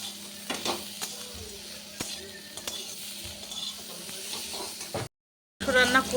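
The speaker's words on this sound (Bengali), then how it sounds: "তেলের মধ্যে তেজপাতা ফোড়ন দিয়েছি, দিয়ে পেঁয়াজটা দিলাম ভাজতে" Bay leaf and sliced onion frying in hot oil for a Bengali home-cooked dish, giving a steady sizzle and hiss with occasional stirring scrapes, broken by a brief silent gap before the sizzling resumes louder.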